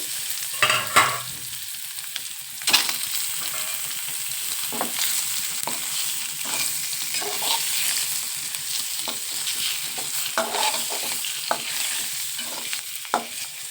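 Masala fries in a pan for egg biryani, a low continuous sizzle with repeated sharp scraping knocks of a spoon stirring against the pan at uneven intervals, close and alone without speech.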